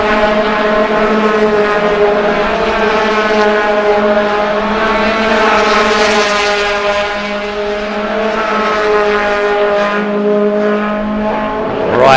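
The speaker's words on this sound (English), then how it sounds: "the cars come screaming down the main straightaway across the start finish" VW race cars scream down the main straight past the start-finish line, a loud sustained high-revving engine howl with a continuous dense roar throughout.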